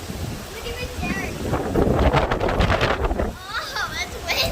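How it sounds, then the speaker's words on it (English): Strong gusting wind during Hurricane Zeta in Pascagoula, Mississippi, buffeting the microphone with a loud roaring surge in the middle, while people talk nearby over the rushing air. "Oh, that's windy."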